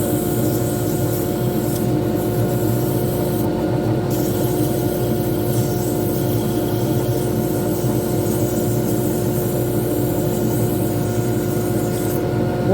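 Steady, continuous friction hiss of 240-grit sandpaper held against a spinning pen blank on a wood lathe, with the lathe motor's hum underneath, unbroken and close throughout.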